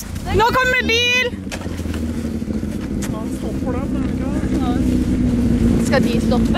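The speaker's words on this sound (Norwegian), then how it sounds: "Nå kommer bil!" A rally car revs through a forest special stage at Rally Finnskog, its engine note rising and holding loud and near as it passes, with spectators shouting excitedly at the start.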